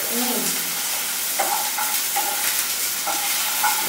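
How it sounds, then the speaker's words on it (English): Potato sizzles and hisses in a hot pan while being stir-fried for Bengali paporer dalna, with occasional scraping and clinking of a utensil against the pan. "we are going to be stir frying the potato now"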